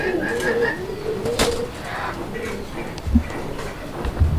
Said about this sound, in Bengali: এটা কালো বোম্বাই, ব্ল্যাক বোম্বাই, এগুলো খুব রিয়ার